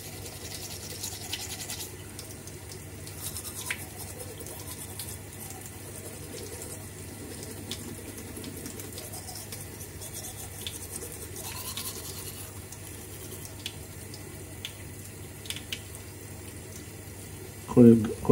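Teeth are brushed with whitening tooth powder, giving a steady, close, faint scrubbing of bristles that runs throughout, with a louder clatter at the very end.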